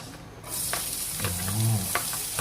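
Garlic and onion sautéing in a pan for Filipino-style spaghetti, a sizzle that flares up suddenly and then holds steady, broken by a few spatula scrapes.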